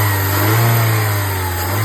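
A 2014 Ford Focus engine, just repaired after a bad vibration noise, revs steadily and loudly up close, with a smooth sustained hum and no rattle audible over the short burst.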